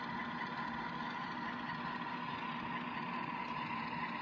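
A DCC model train locomotive pulling away at low speed gives off a quiet, steady electric motor hum, an even drone with no change across the few seconds.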